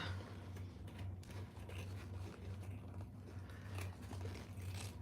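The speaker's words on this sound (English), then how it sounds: "I'm going to trim off my key fob" Scissors trim a fabric key fob at a sewing table, producing soft repeated snipping and scraping clicks close by over a low steady hum.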